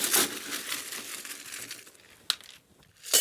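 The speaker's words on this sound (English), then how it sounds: "into the shaker tin, some ice, and we shake" Ice is scooped into a cocktail shaker tin for a tequila cocktail, giving a loud crunching, rattling burst at the start that fades. A sharp clink follows near the end, then another rattle.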